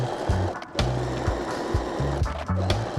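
Home sewing machine stitching lace trim onto repurposed tablecloth fabric, its motor running in several short close bursts of rapid mechanical stitching separated by brief pauses, with no talking.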